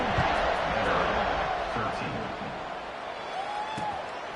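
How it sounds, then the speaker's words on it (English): A stadium crowd in the NCAA Football 26 video game roars in a sustained, dense wash of cheering for Arkansas against Vanderbilt, steady and fairly loud with a commentator's voice faintly mixed in. "this crowd is buzzing after that last score"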